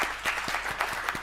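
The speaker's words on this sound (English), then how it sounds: "You deserve a big round of applause." A conference audience applauds in a brief stretch of steady, full-room clapping with a few sharper claps standing out, with no speech over it.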